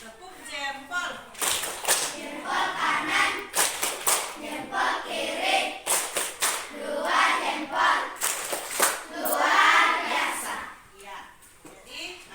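A school class performs the tepuk jempol clapping routine, bursts of rhythmic hand claps in groups alternating with children's chanted voices, close and lively in a classroom.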